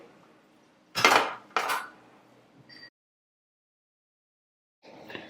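A lid clanks onto a metal pan and the pan is slid aside on a gas stove: two loud, close metallic knocks in quick succession, a lighter clink, a pause of silence, then another scraping clatter.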